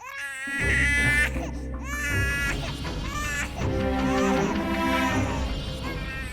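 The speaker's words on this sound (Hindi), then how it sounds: "बच्चे के रोने की आवाज तो आ रही थी ना।" A baby wails loudly and continuously, rising and falling in pitch with strained, sobbing cries close by, over a low steady background hum.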